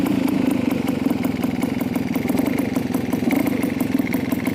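A motorcycle engine runs up in revs and holds a steady, throbbing drone, nearby and loud, with no talking over it.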